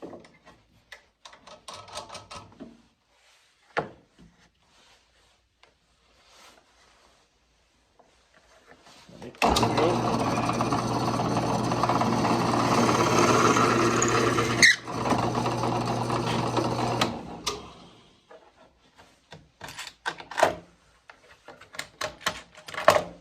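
Scattered clicks and handling noises, then a power drill whirs steadily for about eight seconds drilling tuner holes in a guitar neck before stopping, followed by more small knocks and clatter.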